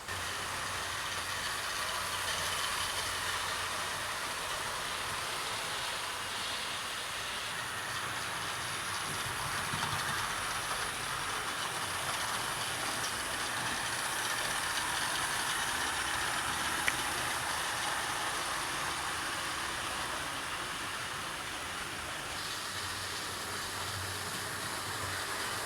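A Stanier Princess Royal class steam locomotive runs steadily, a faint, even hiss and low mechanical hum continuing unbroken and alone for the whole stretch.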